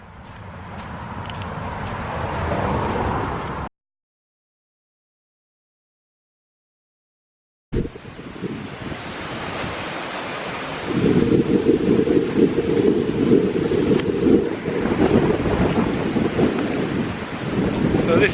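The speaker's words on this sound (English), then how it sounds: "the wind is quite strong just now" Strong wind buffets the microphone on the hilltop of Dover Hill above Chipping Campden, loud and roaring in gusts, broken by a few seconds of silence midway.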